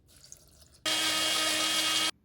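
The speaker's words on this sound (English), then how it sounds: "Blend by adding 1/2 cup of water." A loud, steady high-pitched blender whir blending garlic chutney with water starts abruptly after a quiet moment and runs continuously for over a second before cutting off.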